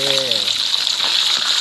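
Steady, loud hissing and sizzling of fish frying in hot oil in a pan, with a brief voice at the very start.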